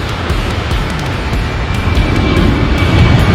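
A large four-engine Lion Air Boeing airliner, a continuous loud broadband engine roar that holds steady and swells slightly toward the end, with no voices.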